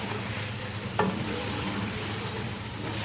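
Chicken karahi with frozen green coriander sizzling in a pan, a dense, steady frying hiss with one brief clink of a utensil being stirred in, close up, with no talking.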